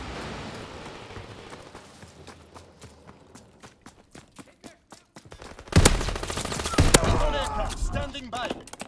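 Gunfire in the video game Call of Duty: WWII starts as a quick, steady run of rattling automatic shots. It then gives way to a louder, denser burst of close weapons fire, with faint voices underneath.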